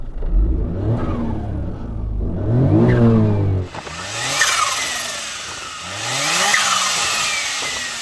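A kei micro coupe engine revs up and down several times, rising whines sweeping upward in quick bursts, loud and close, with a harsher, brighter tone in the second half.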